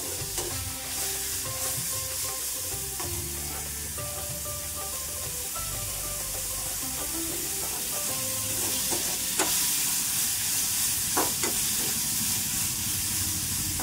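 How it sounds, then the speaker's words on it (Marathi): Chopped tomato frying in a pan for spicy misal gives a continuous loud sizzle and hiss, close by, with scattered stirring scrapes and a few sharp clinks of a utensil. "आता मी टोमॅटो टाकून घेते आहे"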